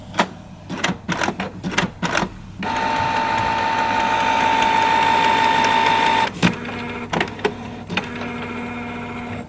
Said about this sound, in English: I would say that doesn't sound good, but I think in printer terms it does.